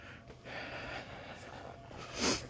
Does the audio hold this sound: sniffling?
yes